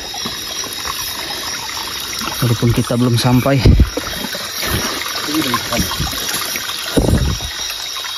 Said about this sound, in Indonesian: ada sungai, kita ketemu anak sungai